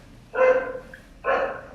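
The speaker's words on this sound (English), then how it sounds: "My dog." A dog gives two short, loud barks about a second apart, close by over low background noise.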